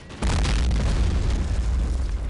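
A gun fires at a tank in the Men of War: Assault Squad game: one sudden loud explosive blast followed by a sustained, heavy roaring rumble.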